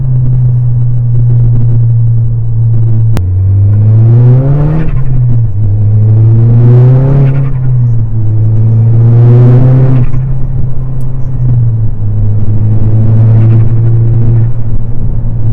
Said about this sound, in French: T'en penses quoi du son à l'échappement?